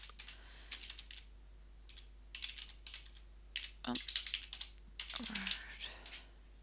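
Typing on a computer keyboard, entered as an address: short bursts of clicky keystrokes with gaps between them, close and fairly quiet, with a few louder taps near the end.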